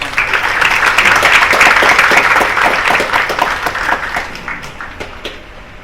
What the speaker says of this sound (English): So let's have a round of applause for this conference.